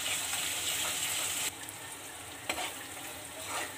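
Ginger garlic paste frying in a pan on a home stove, a steady close sizzle and crackle with a few soft stirring scrapes partway through, and no voices.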